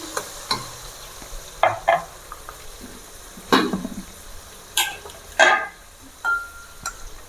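Marinated chicken going into a pan and being stirred for gongura chicken curry, with soft sizzling under scattered scraping and clinking strokes of a utensil, close by and fairly quiet, no voices.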